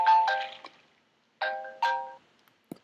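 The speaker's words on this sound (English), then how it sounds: "Oh, that's my phone." An iPhone ringtone on a phone plays in short bursts of bright melodic tones with gaps between them, fairly loud and close, with no talk over it.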